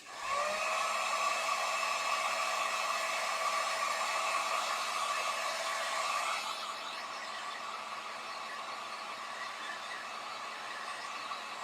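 A hair dryer blows steadily on a scarecrow wall-decor craft piece, a loud continuous whir that drops slightly in pitch and level partway through, with no talking.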